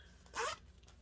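A zipper on a small hexagon-shaped needle book with a zip pouch gives one quick, close zip pull of about a quarter second, standing clearly above a quiet room hush.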